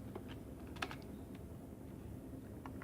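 Quiet typing on a computer keyboard while entering an MS-DOS command, soft scattered keystrokes with a couple of slightly louder taps over a steady background hum, no voices.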